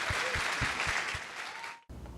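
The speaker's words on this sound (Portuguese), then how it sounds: "aplauso é agora." An audience at a panel talk claps in a dense, even wave of applause that cuts off abruptly near the end.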